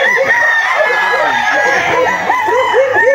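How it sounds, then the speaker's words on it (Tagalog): Roosters crowing and hens clucking at a fowl farm, a dense chorus of loud overlapping crows and clucks close by with several birds calling at once. "nandito na tayo sa pupuntahan nating mga manukan"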